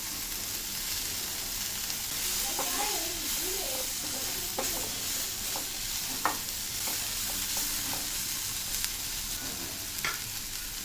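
Onion, garlic and ginger roast in a pan for chole masala, giving a steady soft sizzle with intermittent spatula scrapes and stirring taps, no talking.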